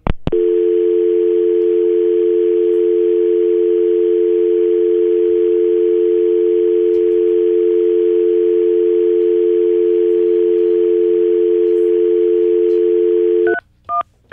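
Telephone dial tone: a loud, continuous steady hum held for about thirteen seconds, ending in a couple of short broken tones.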